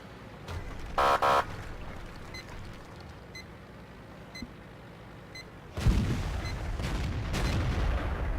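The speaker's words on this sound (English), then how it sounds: "A little fire being exchanged here between our light tanks." Light tanks trade fire in a tank video game: a loud burst of gunfire early on, scattered faint shot reports, then heavier booming cannon fire and rumbling battle noise near the end.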